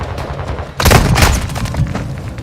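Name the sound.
precision airstrike explosions in a video game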